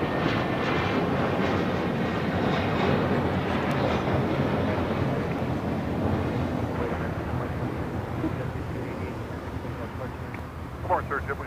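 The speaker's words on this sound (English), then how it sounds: "The Korean Air A380 Super still making his way over to Tom Bradley" A Korean Air Airbus A380 taxis toward Tom Bradley terminal at LAX, its engines making a steady low rumble that eases slightly over time, with voices talking over it.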